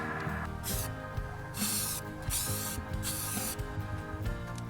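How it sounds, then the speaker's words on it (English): An aerosol can of flat black spray paint hisses in several bursts of about a second each onto RV steps, separated by short pauses, against a humming background. "I'm gonna spray the flat black on it"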